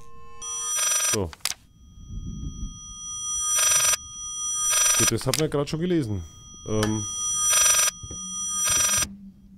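A telephone rings in the Layers of Fear horror game, its bright bursts repeating at regular intervals and alternating with someone speaking German.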